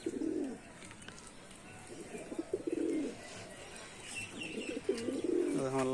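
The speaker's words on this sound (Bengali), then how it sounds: "আমার লাল পায়রাগুলো" Red Giribaz pigeons coo close by in a loft, several soft low throaty coos in repeated bursts over a faint background hum.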